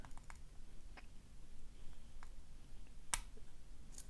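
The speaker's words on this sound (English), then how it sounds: "And that opened the lock up." A vintage Bulgarian padlock is picked open, with a few faint, sparse metallic ticks and one sharper click near the end over low room hiss.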